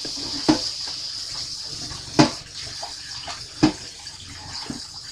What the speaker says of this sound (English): So washing the meat.